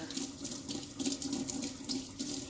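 Cold water runs from a sink faucet in a steady, close splashing stream that continues for the whole span, fluctuating slightly as something moves under the flow.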